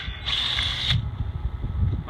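A hand tap cuts threads into a bolt hole in an access port flange, producing a steady close grinding creak with a brief high metallic squeal near the start.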